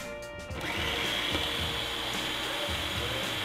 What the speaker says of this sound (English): I'm gonna start to puree this.